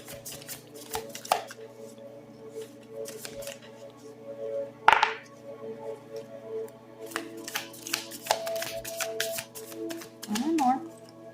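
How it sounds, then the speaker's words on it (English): Tarot cards being shuffled and drawn from a deck, giving soft papery riffles and scattered flicks and taps at close range, with a louder slap near the middle, under a quiet steady background hum. "I'm just going to go ahead and just pull some cards"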